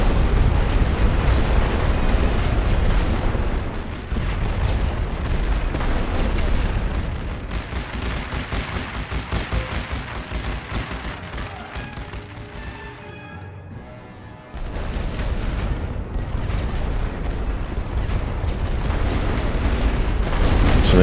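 Dense artillery and rifle fire rage without pause in The Great War: Western Front. Heavy booms and crackling volleys pile up loud and close, thin out briefly partway through, then return at full intensity.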